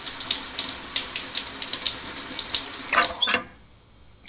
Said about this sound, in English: Shower.